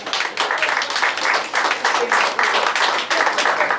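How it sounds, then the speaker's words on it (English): Applause from a bar and grill show audience, steady clapping in repeated bursts of several seconds filling the room at moderate loudness. "Give them a big round of applause."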